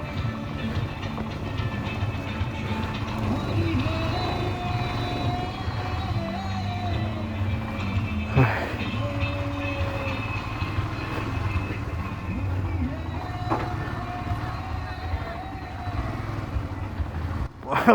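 Motorcycles ride a rough, dangerous off-road trail at a motorcycle club's foundation-day ride, with a steady engine drone and rattling throughout and wind noise over it, ending in a sharp bump.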